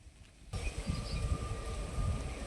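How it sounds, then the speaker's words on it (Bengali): Steady low rumble of a train rolling along in the distance near Motijhil park, Murshidabad, a continuous muffled clatter with faint wind noise over it. "ওই যে ট্রেনটা যাচ্ছে দূর দিয়ে"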